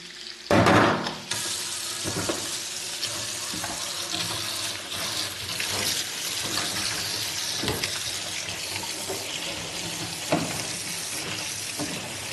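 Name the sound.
hot water running from a tap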